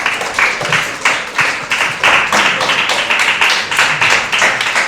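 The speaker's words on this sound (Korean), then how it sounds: "이 선배님이 나올 때 여러분 박수로 모셔주시고" An indoor audience claps to welcome a speaker to the front at a school information session, steady rhythmic applause from many hands, close and loud, pulsing in quick waves throughout.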